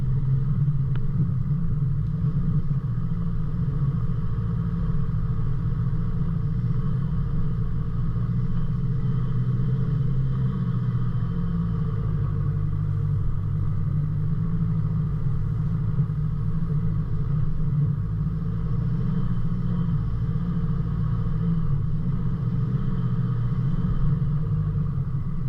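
4WD Troopy grinding up a rough dirt track near Tallarook and Flat Rock, a steady loud low engine rumble with cabin drone that holds throughout, no talking.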